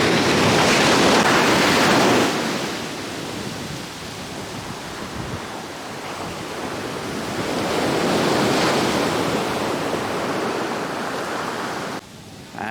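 Surf crashes and washes continuously at Lamai Beach on Koh Samui under cloudy, windy skies, with waves swelling loud, easing and surging again while gusts of wind blow across the shore.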